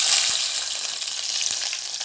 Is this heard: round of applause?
no